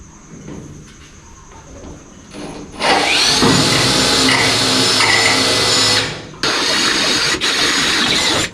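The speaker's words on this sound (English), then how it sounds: "Now I can drill from the top, drill those holes through the radiator support and that new mount" A power drill bores holes through a car's radiator support and a new mount, a loud steady whine starting abruptly, running for several seconds, briefly dropping, then resuming close up with no talk.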